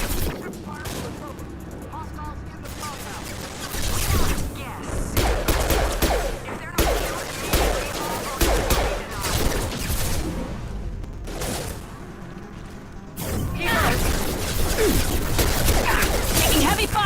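Heavy sustained gunfire in a firefight in the sci-fi video game Mass Effect, loud and dense, with continuous overlapping bursts and shots and brief lulls near the middle. Voices can be heard under the shooting.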